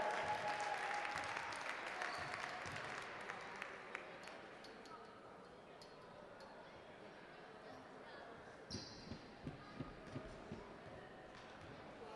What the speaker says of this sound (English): Give a big round of applause to Patrick McGuire